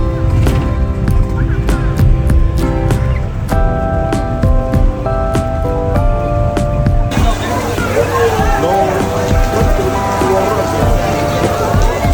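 Steady rain falls during a sightseeing trip in China, a dense close hiss of drops that takes over the second half after a stretch of chiming, ringing tones.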